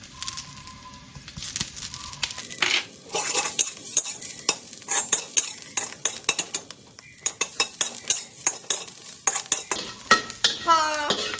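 Minced garlic and red chili are stir-fried in a hot pan, a busy run of clattering spatula strokes and scrapes against the metal over a steady sizzle, loud and close, with no talk.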